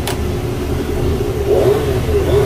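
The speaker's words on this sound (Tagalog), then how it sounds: "tumunog na po yung power saw" A power saw runs with a steady, fairly loud motor whine and hum, holding an even drone throughout with a slight rise in pitch toward the end.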